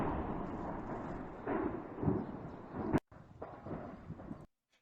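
A large explosion at a Russian military base produces deep, rumbling blasts heard from a distance, a swelling roar with a couple of louder surges, then an abrupt cut to a further rumble that fades out.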